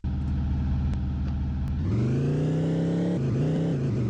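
Car engine revving and rumbling steadily as a vehicle runs down an enemy rooster character in the video game Chicken Gun, loud and continuous with a rising pitch partway through.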